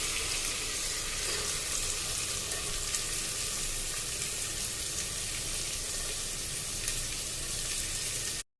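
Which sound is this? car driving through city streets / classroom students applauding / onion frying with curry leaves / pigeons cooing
onion frying with curry leaves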